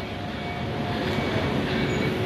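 A metro train near an MRT station rumbles steadily nearby, a dense continuous roar of wheels on rails with faint metallic squeal, no voices.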